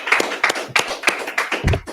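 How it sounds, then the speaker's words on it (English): A group claps in steady unison at a live-streamed gathering of the Israelite School of Universal and Practical Knowledge, about seven sharp, close claps evenly spaced over two seconds with no talking. "All right, let's clap it up."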